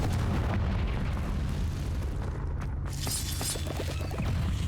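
Confringo blasting spells explode in Hogwarts Legacy, a dense, continuous roar of booms and rumbling with a bright shattering burst near the end, no talking over it.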